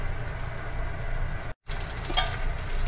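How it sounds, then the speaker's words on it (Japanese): Asparagus sautéing in olive oil in a frying pan gives a steady, close sizzle throughout, broken by a brief silent gap midway, with a few crackles after. "フライパンに、そのまま並べまして、オリーブオイルを注ぎます。"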